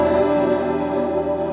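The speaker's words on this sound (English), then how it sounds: "So running both amps together using the ABY box sounds like this." An electric guitar runs through two amplifiers at once via an ABY box with delay and chorus effects, sustaining a shimmering, layered chord that rings steadily and close for its full length.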